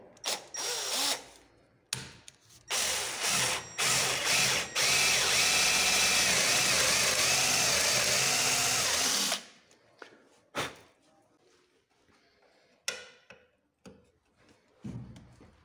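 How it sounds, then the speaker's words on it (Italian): A power drill fitted with a 10 mm bit bores a hole while fitting recessed posts, a loud steady whine running about seven seconds after a few short bursts, then dying away to quieter handling clicks. "facciamo un foro con una punta da 10 mm"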